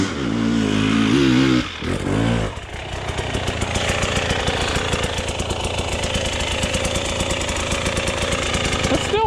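An off-road vehicle engine revs hard in second gear, a loud, rapid knocking roar that builds after a brief pause and holds steady and close. A voice is heard at the start.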